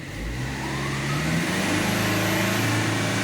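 An Opel Vectra C with the Z19DTH diesel engine revs in limp mode, held to about 3000 rpm by a P0002-75 fault, giving a loud, steady, slightly rising drone close by.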